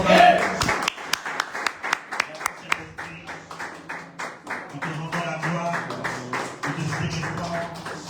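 Worship congregation at a prophetic service in Martinique clapping in a brisk, steady rhythm with sharp close hand claps, while voices sing and call out acclamations throughout.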